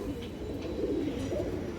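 A silver female pigeon coos softly in a low, steady murmur, close by and without talk.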